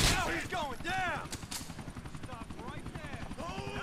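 A helicopter in the video game GTA 4 thrums steadily with rapid rotor pulses, under bursts of gunfire and someone talking over it.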